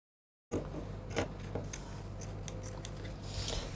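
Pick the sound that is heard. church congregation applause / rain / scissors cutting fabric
scissors cutting fabric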